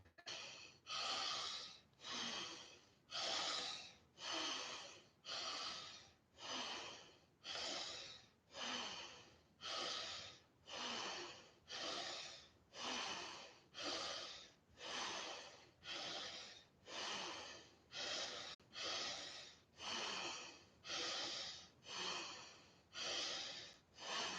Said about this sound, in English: take a deep breath in preparation. Gently breathe out all.